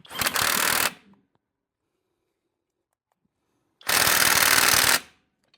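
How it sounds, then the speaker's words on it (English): An impact wrench tightens a castle nut on a Scion xB steering knuckle, firing two loud, close, hammering bursts of about a second each, separated by a few seconds of near silence. "So let me get my impact wrench."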